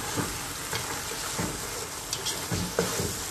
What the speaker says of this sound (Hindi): इन सबको मैं भून रही हूँ अच्छे से।